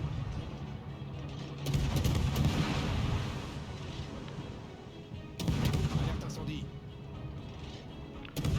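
Naval guns fire at the cruiser Moskva in a warship battle video game, heavy booming salvos in two separate bursts that roll out into a rumbling decay, with a voice talking quietly underneath.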